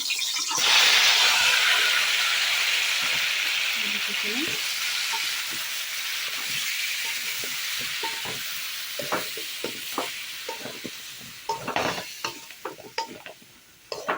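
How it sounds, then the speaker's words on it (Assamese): Hot oil poured over hog plums for a salted pickle sets off a loud, bright sizzle that gradually dies down, followed by scattered crackles and pops, with no talk. "এই গৰম কৰা তেলখিনি মই অমৰাখিনিৰ ওপৰত ঢালি দিম।"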